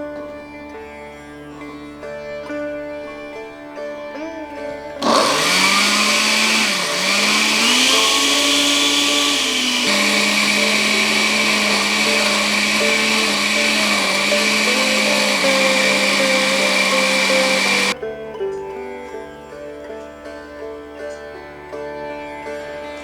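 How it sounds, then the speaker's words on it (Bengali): An electric kitchen mixer grinds water chestnuts in a loud, high whirring burst of about thirteen seconds that dips in pitch as it bites into the load, then cuts off abruptly to a quieter background. "শিলে বাটতে পারলে বাটুন, আমি কিন্তু আজকে মিক্সার ব্যবহার করব।"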